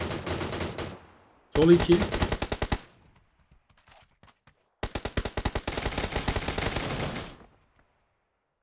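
Automatic gunfire in a battle royale shooter, two long rapid bursts of close, loud shots separated by a short pause, with a brief spoken word between them.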